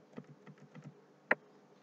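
Keyboard shortcut presses on a computer keyboard, a few soft, quiet taps in quick succession followed by one sharper, louder click, close and isolated against near silence.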